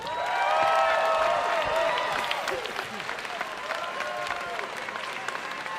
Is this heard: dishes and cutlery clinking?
no